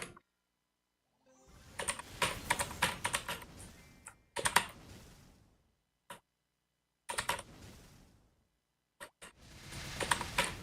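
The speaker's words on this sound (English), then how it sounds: "Was I tapping the keyboard that hard?" Someone types hard on a computer keyboard during a game grinding session: loud, close clattering keystrokes in irregular bursts broken by short silences, with no talking.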